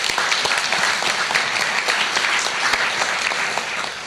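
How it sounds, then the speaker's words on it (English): Audience applause at a plenary conference session, dense and sustained clapping from a sizeable crowd lasting about four seconds, loud and even throughout. "Can we give them a round of applause, please?"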